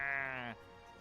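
A single sheep bleat, likely from a video game, sounds clearly and tonally for about half a second before cutting off into quiet background.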